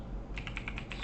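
Quick burst of keystrokes on a computer keyboard entering a command, several light close clicks in an even run, quiet and alone.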